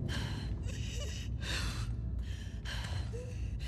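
Repeated strained gasps from a character choking on spores in The Last of Us Part II, four or five rough breaths with short pauses between, close up over a steady low background hum.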